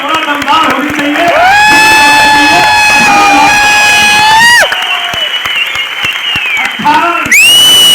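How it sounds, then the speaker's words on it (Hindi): Loud, sustained crowd applause at a success celebration in Noida, joined by long blaring horn blasts that rise and hold over the clapping, with a short pause before another horn sounds near the end. "तालियां थोड़ा दमदार होनी चाहिए"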